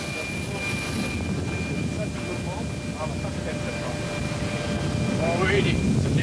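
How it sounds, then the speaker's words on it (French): A Boeing 737 jet aircraft produces a steady broadband roar with faint tonal whines, growing slightly louder toward the end, with voices talking over the cabin noise. "on va faire un petit tour sur le 737"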